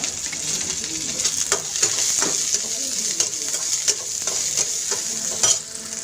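Onions and chopped garlic fry in a pan with a bright, continuous sizzle. Stirring adds clicks and scrapes at irregular intervals, and the sound stays close and fairly loud throughout.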